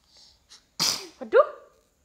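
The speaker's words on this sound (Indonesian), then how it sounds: "Aduh, bersin juga." A baby sneezes once, close and loud, with a brief breathy intake before it and a short voiced catch after, in a quiet indoor room.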